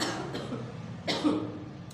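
Two short, raspy coughs, one faint and one stronger near the middle, against quiet room noise.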